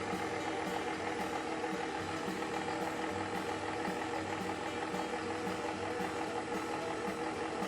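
A motorized pasta machine hums steadily and evenly as ravioli dough is rolled through its wheels, a constant mechanical drone with faint rhythmic ticking and no talk.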